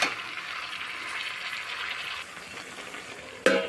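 Cabbage stir-fried in spice paste with a splash of water gives a steady, close sizzle that holds for several seconds, eases slightly, then a short clatter near the end.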